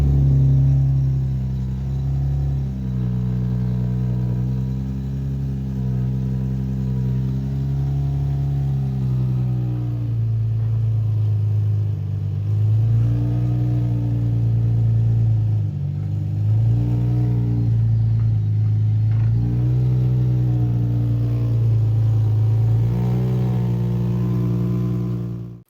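A Nissan 350Z engine runs steadily in gear, a low droning rumble that rises and falls slightly in pitch over the whole stretch, with no talking.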